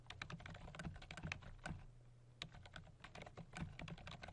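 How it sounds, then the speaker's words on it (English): Fast, uneven keystrokes clatter on a computer keyboard, close and continuous, with brief gaps between word bursts and no voices. "I can type in my information"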